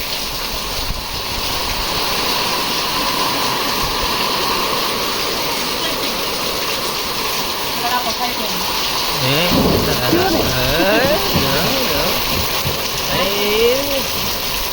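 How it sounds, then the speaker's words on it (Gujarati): Heavy rain pours steadily with a dense hiss during a thunderstorm, while voices talk faintly underneath. "વરસાદ છે"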